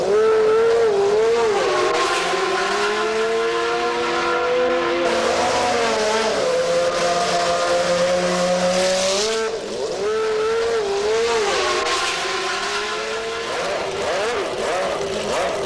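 Williams FW15C Renault Formula One cars from 1993 screaming on track, their high-revving engines rising and falling through gear changes in a loud, continuous wail with brief dips around passes, no talking.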